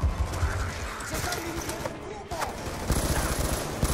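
Bursts of automatic gunfire in Call of Duty Black Ops 2, rapid repeated shots, loud and close, broken by a brief lull, with voices talking over them.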